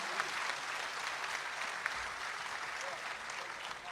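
Steady, dense applause from an audience at an Urdu poetry recital, filling the space evenly for several seconds with a few sharper claps standing out, heard from within the hall.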